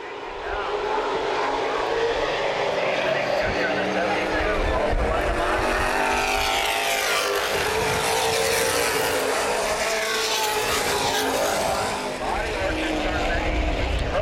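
NAPA late model stock cars roar around Baer Field Speedway in a feature race, engines loud and continuous as several cars pass close by, their pitch rising and falling, with an announcer talking over the noise.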